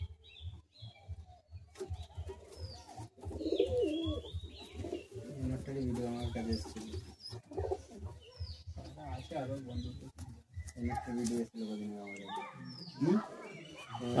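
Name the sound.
pigeons cooing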